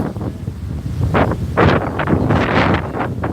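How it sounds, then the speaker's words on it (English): Gusty wind roars across the microphone on a beach in Da Nang, Vietnam, heavy low buffeting that rises and falls in waves for several seconds, with no one speaking. "Yeah, it's windy."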